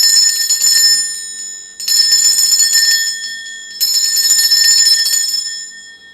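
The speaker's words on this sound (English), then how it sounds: "I'm going to be ringing this bell. This is just to cleanse the space around us." Handbell rung to cleanse a space, three bright ringing bursts of rapid metallic clanging, each sustaining then fading, loud and close with no voices.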